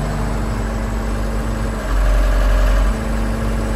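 A Case 8840 windrower's engine runs steadily at idle close by, then rises in pitch and loudness as the throttle is opened and drops back again, with no voices.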